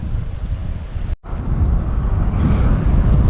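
Strong wind buffets the microphone while cycling, a loud, continuous roar broken by a brief dropout before the rushing resumes.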